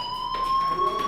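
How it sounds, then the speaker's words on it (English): A fire alarm in the video game Life Is Strange sounds as a steady, continuous electronic tone with high harmonics, holding loud and unbroken throughout with no voices over it. "Hey, do you hear that fire alarm?"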